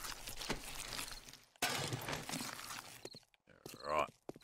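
Glass breaking in the survival video game 7 Days To Die, a pair of sharp crashing bursts of shattering followed by a brief tinkling crunch, fairly quiet overall.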